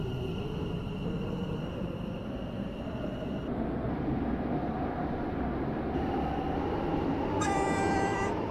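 A train running on the Stepford railway in a video game, a steady rolling rumble throughout with a short chime near the end and no talk.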